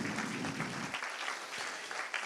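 Awards-ceremony audience at the 78th Cannes Film Festival CST prizes breaks into dense, steady applause filling a large hall, moderately loud and continuous for the whole moment.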